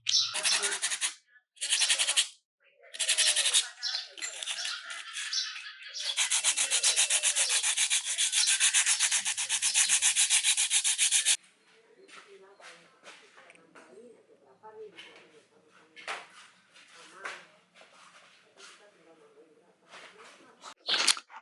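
Sandpaper rubbed by hand over motorcycle brake caliper pads, a loud rasping scrub in bursts then a long continuous stretch, followed by quieter scraping and handling noises.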